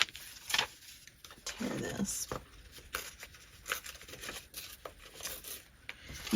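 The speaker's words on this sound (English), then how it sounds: "You can tear the piece of paper first if you want." Paper being torn in a few rough, ripping bursts, close by, with quieter rustling and handling between the tears.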